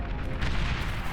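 Tier 2 geothermal plant exploding in the strategy game Beyond All Reason, a single deep, rumbling boom heard as a short, muffled burst at moderate level.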